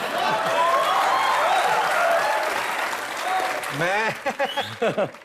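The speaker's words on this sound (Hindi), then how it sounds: "जोरदार तालियां हो जाए एक बार।" A studio audience at a comedy talk show breaks into strong, sustained applause that tapers off before people start talking over it near the end.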